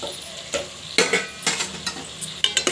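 A ladle stirs spicy drumstick kurma in a pan, a few scraping strokes over a soft sizzle, close and moderately quiet.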